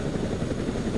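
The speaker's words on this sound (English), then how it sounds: "boarded the helicopter" Helicopter at an air force base, steady dense rotor and engine rumble throughout, continuous and moderately loud with no voices.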